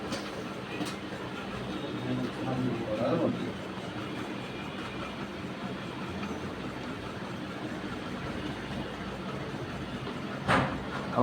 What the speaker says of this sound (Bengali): ট্রেনটা বুঝি ঢুকছে, কারণ বোঝা যাচ্ছে গেট পড়েছে